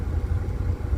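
A car's engine idles as the clutch is pressed fully down during a driving lesson: a low, steady, throbbing rumble, close and moderately loud, with no voices.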